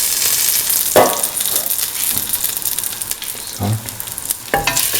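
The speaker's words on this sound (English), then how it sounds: "Now put in the fennel seeds. Put in the red chilies." Red chilies and fennel seeds sizzle and crackle loudly in hot oil for a kidney bean tomato stew, a steady close frying hiss broken by a few stirring knocks.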